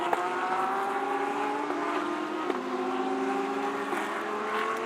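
An Audi GT race car, car number 41, laps the Chang circuit in GT Asia qualifying, its engine a steady, sustained drone with shifting pitch and a brief gear change midway, heard alone with no voices.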